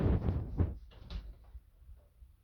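A front door opens in a home fitted with a Concord 4 alarm system, giving a few close, sharp knocks and rattles that quickly fade into a quiet room.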